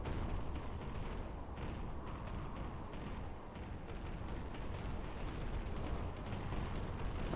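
Heavy 30mm cannon fire in the combat game Carrier Command 2 forms a dense, continuous barrage of booming, blasting bursts that stays loud and steady for the full stretch, with no talking.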